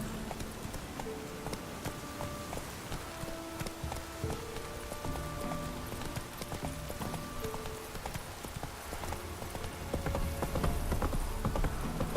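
Roach, a horse in the Witcher 3 game, gallops with rapid rhythmic hoofbeats over a dense bed of ambient game noise and music, the pounding steady and close and swelling slightly louder near the end.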